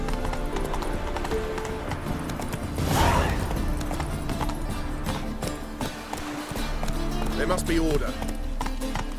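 Horse galloping in the video game Witcher 3, steady hoofbeats pounding under game music and ambient sound, with a character's voice speaking briefly over the ride.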